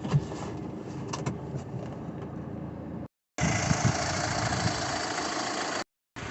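The engine of a car used for a jump start idles steadily with a low, even rumble, close and moderately loud. The sound cuts out abruptly twice.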